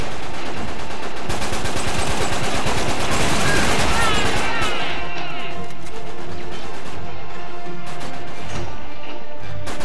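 Rapid gunfire from a weapon in the action game Uncharted 3 rattles loudly and continuously up close, mixed with crashing impacts, then thins toward the end.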